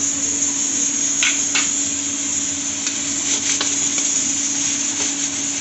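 Garlic paste frying in a pan for an egg curry gives a steady, close sizzle, with a few faint clicks of stirring scattered through.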